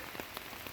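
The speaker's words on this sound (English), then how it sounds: "I'm complaining about the rain." Rain falls steadily on the roof and shell of an RV parked at a campground, a dense, even patter of drops with small irregular taps, heard alone without voices.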